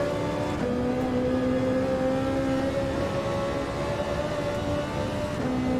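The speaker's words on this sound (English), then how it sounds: "hear me pushing the brakes hard." A race car on the Nürburgring in Gran Turismo 7 gives a loud, steady engine whine with sustained tonal notes that dip briefly in pitch a couple of times, without voices.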